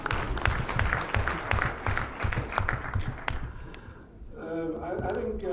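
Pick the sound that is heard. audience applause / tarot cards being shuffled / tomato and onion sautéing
audience applause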